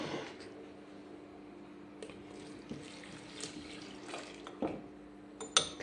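Cold milk pours in a steady liquid stream into a whipped mixture for a banana and chocolate cream sponge cake, running close and continuous with a few brief clinks near the end.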